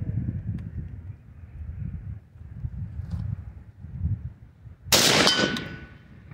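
A single loud rifle shot from a Colt BCM A4 clone 5.56 rifle with a 20-inch barrel cracks out at an outdoor range, sharp and close, following several seconds of wind and low rumble.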